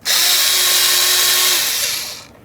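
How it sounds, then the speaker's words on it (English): A power drill whirs in one steady burst for about two seconds, driving a screw while fitting a front exterior door handle on a 2006–2010 Ford Explorer, then winds down, close and loud. "Now we can start screwing this in."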